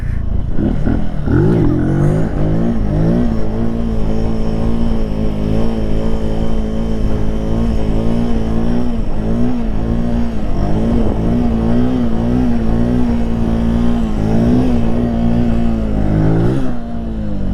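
A Benelli TNT 135 motorcycle engine runs loud and close, holding a steady buzzing note with repeated swells of revving and a sharper blip near the end.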